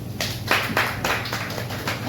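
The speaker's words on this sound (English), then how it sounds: "how many of you guys are online dating? Clap your hands" A comedy show audience claps hands in loose bursts, several broad waves of clapping spread across the moment with little talk over it.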